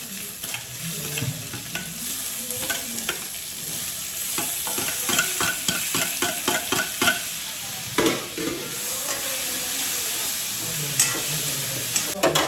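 Onion and tomato frying for a spicy dry chicken dish, with a steady sizzle and repeated scraping strokes of a spoon stirring in the pan, loud and close, no talking.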